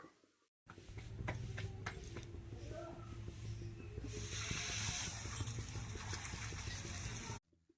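Oil sizzles steadily on a hot tawa while an aloo paratha fries, a continuous close hiss with a low hum beneath that grows brighter and louder midway, then cuts off abruptly.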